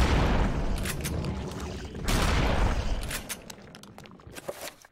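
In Eternal Darkness: Sanity's Requiem on GameCube, an enemy bursts apart after a shotgun headshot: two heavy booming blasts with rumbling decay, followed by scattered sharp crackles and debris clicks fading out.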